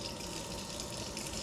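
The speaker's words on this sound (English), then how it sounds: "I'm going to put 3 cups of water at minimum" Water gushes from a measuring cup into a pot of dry rice, a brief steady pouring rush heard up close.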